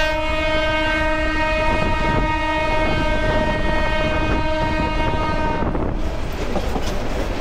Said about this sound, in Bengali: ট্রেন খুব স্লো, ধীর গতিতে যাচ্ছে আর কি